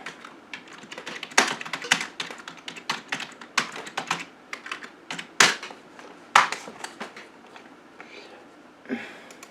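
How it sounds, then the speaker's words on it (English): Computer keyboard being typed on in bursts of sharp, close clicks with uneven rhythm and a few louder key strikes, alone without speech over about ten seconds. "Alright, now let's type this in."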